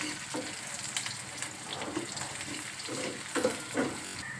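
Onions fry gently in a pan over low heat for a lentil and jute-leaf dish, giving a soft, steady sizzle with a few brief bubbling and stirring spikes, faint and close with no talking.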